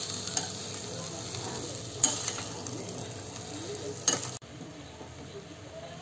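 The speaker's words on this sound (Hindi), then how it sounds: "देखिए हमने अपने चनों को मसाले में कस लिया है, एकदम से भून लिया है" Chickpeas roasting in spices with green chilies in a pan, a low continuous sizzle broken by a couple of sharp stirring knocks of the spoon against the pan.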